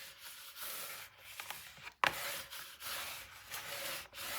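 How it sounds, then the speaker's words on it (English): Paper in a 9 x 9 mini album is burnished flat with repeated soft rubbing strokes, quiet and close, with one sharper scrape partway through. "Lay it down and now burnish it."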